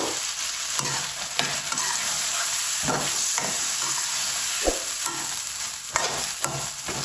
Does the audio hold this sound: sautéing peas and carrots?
yes